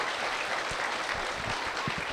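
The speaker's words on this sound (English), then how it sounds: "please give me a big round of applause for Lowell Milken" An audience at an elementary school award ceremony claps steadily, a soft, dense patter of many hands heard from some distance.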